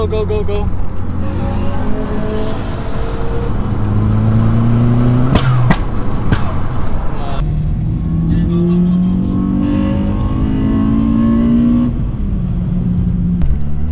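A car engine revs loudly and up close, its pitch climbing and falling in repeated pulls with a steady rumbling drone between them, while people talk over it.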